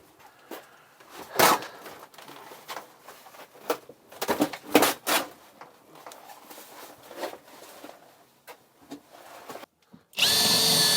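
Power drill boring out rivets from the side wall of an ambulance being stripped for conversion, in short bursts with pauses between, followed by a loud continuous whir at the end.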